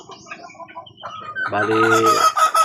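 Chickens and two-month-old chicks roaming a backyard on a hot afternoon: soft peeping and clucking, then a loud close rooster crow rising over the flock.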